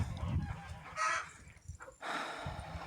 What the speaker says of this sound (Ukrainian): Хочу зблизька познімати вам наших качучок